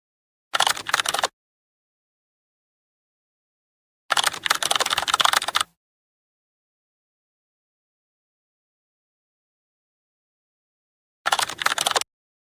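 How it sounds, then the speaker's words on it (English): Three short bursts of rapid keyboard typing, each separated by complete silence, the middle burst lasting longest. "add a typing sound effect"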